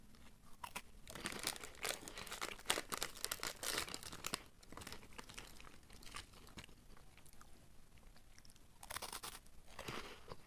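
Crispy wafer snacks crunch and crackle up close in a quiet room, with bursts of sharp bites followed by steady chewing and brief pauses, no talking.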